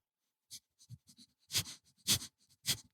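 A person imitates a dog panting: a series of short breathy huffs, quick and uneven, growing louder toward the end, close to the mic.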